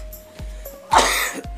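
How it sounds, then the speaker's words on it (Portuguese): A single short cough sounds close by, a sharp burst amid a quiet background with a low hum. "Eita, tossi."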